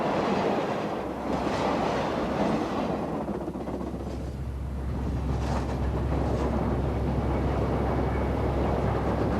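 A steam train rumbles steadily along the rails with a continuous heavy roar and faint rhythmic clatter, loud and close throughout.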